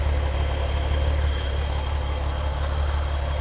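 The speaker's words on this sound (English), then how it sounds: "This is an air cooled engine." An air-cooled Chevrolet Corvair engine idling, a steady low rumbling drone with an even throb that holds constant throughout, with no voices.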